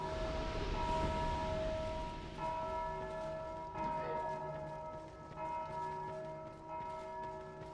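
Tolling church-style bells ring in the video game Dark Souls II, several resonant strikes with long sustained overtones decaying slowly, fairly faint and distant with no voices over them.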